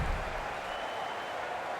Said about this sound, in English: The crowd is eager as the spinner steps in.